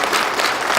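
An audience applauds to welcome a performer at a community crime-prevention forum held with local police, a brief dense burst of clapping filling the room with no talk over it.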